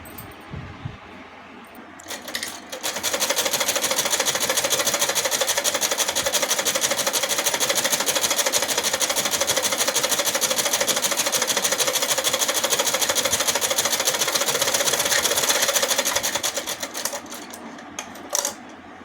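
A sewing machine stitching a salwar runs in a fast, even, continuous rattle for about thirteen seconds, close and loud, with quieter handling sounds before it starts and after it stops.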